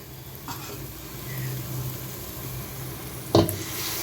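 Mutton head curry frying with chili powder in a pan, a steady soft sizzle throughout, with one sharp clatter near the end.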